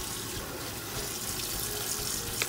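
Tap water runs steadily into a sink to soak pancit noodles, a continuous close splashing hiss with no talk.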